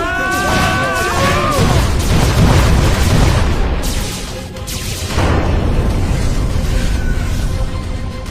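In a cartoon, a huge spaceship attacks and fires, producing a dense, loud, continuous roar of booming blasts and crashing explosions, with a brief lull midway.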